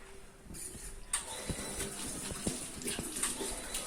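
Running water from a tap rinsing soap off hands, a steady splashing wash with occasional clicks and knocks mixed in, heard close and moderately loud.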